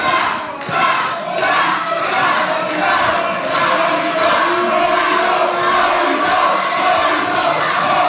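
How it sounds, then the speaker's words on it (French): A wrestling arena crowd at a La Bagarre match chants and cheers steadily for the full stretch, with rhythmic claps or stomps punctuating a loud, dense roar and no commentary breaking through. "Et les chants Scar qui fait son coup, qui se font couvrir par les acclamations Morito qui résonnent ce soir."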